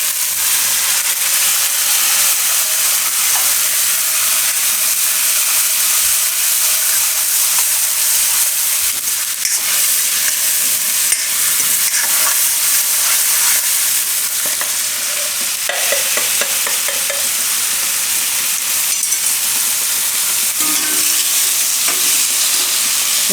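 Tomatoes and onions fry with asafoetida in a pan for a Gujarati stuffed ridge gourd curry, giving a loud, continuous sizzle with bubbling and occasional stirring scrapes throughout, with no talking.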